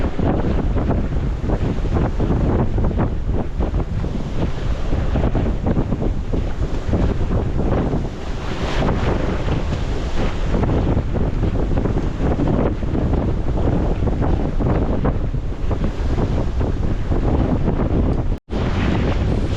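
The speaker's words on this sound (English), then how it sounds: "We are cutting through this water." Strong wind buffets the microphone while water rushes steadily past a sailboat crossing the San Pedro Channel, a continuous loud roar with no voices.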